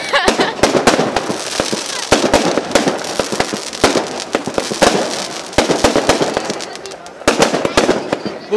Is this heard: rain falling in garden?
no